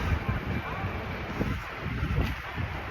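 Wind gusts buffet the microphone, producing a rumbling, uneven roar that swells and dips over a few seconds.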